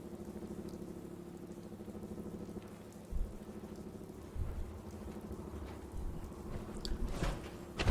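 Rain falls steadily in Fallout 4 while low thunder rumbles roll in and out beneath it, with a louder crack near the end.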